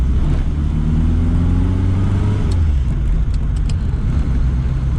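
A three-wheeler car moving through stop-start traffic, its engine loud and close inside the cabin, revving and droning with falling gear pitches, then settling into a steady rough rumble.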